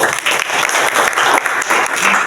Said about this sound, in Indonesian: Mari kita tepuk tangan untuk kemuliaan daripada Tuhan.